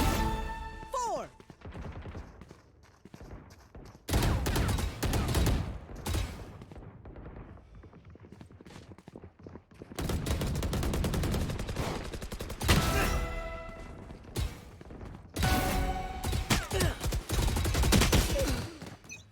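Rifle gunfire in a video game: bursts of sharp, loud shots in clustered volleys separated by quieter gaps.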